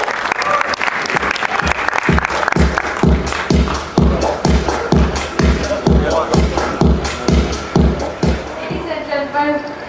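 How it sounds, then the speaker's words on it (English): Launch-event crowd applauds and cheers for Shafat Ali, a dense, loud wash of clapping with rhythmic unison claps running through most of it and voices mixed in. "Ladies and gentlemen, a huge round of applause for Shafat Ali."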